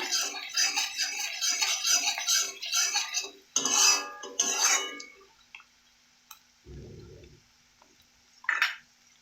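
Metal spoon scraping and clinking against a pan while stirring rohu fish curry, a run of rhythmic scrapes followed by a few separate knocks and clinks, close and without talk.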